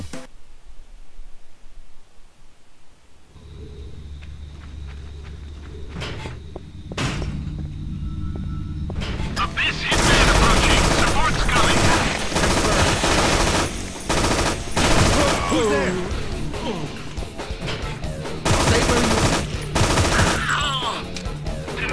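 Enemy gunfire in the video game Infernal starts as sparse shots over a low hum, then swells into sustained, loud, rapid automatic fire with rumbling impacts.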